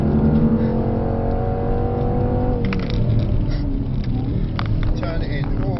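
A Mercedes C63 AMG pulls hard at full throttle in fourth gear, its engine note climbing steadily and loud from inside the car, with a voice speaking briefly partway through.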